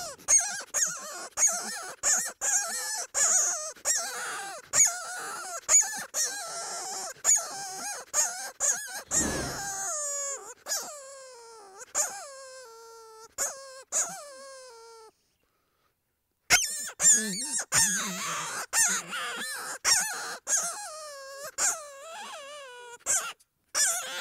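Repeated high, wavering squeals from a Flextone predator call, bent and squeezed to mimic a rabbit in distress, in short rhythmic bursts with a brief pause partway through.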